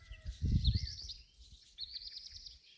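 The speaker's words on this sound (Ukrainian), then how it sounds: "Птахи співають, ще не є дуже жарко, тому дуже гарно." Birds singing in a quiet village countryside setting on a mild morning, two bright chirping trills carrying clearly at moderate distance, with some low rustling and handling noise underneath.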